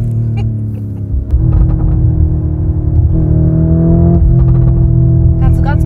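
Deep idling burble of an ABT-tuned 840 hp Lamborghini Urus, loud and close, with stepped rises in engine pitch as it revs, and brief talk over it.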